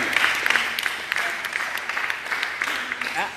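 A church congregation at a seminar claps continuously and loudly in dense applause, with voices calling out over it.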